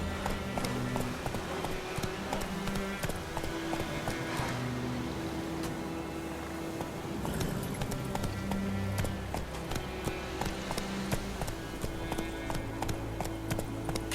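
Roach, Geralt's horse in The Witcher 3, gallops with a fast, even hoof rhythm under a constant bed of game music, with a short voice heard once.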